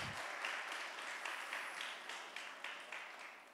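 A church congregation stands and applauds, a faint, even wash of clapping with soft rhythmic pulses that carries on steadily.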